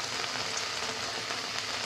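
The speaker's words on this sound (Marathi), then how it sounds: "आता खालच्या साईडनी थोडंसं लालसर आपण फ्राय करून घेऊयात पनीर." Paneer pieces fry in a pan over a low gas flame, giving a steady, even sizzle that holds unbroken throughout with no voices.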